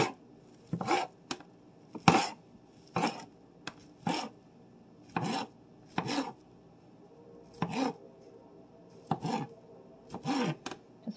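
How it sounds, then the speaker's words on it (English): A knife chops kielbasa sausage on a cutting board, about a dozen crisp separate cuts in an uneven rhythm, close and distinct, with no talking. "Gonna cut them into nickel-sized pieces."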